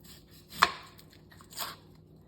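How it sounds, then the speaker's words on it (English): A knife cuts the stem off an onion on a board, making two quick, faint chopping thuds about a second apart. "Start by cutting off the stem"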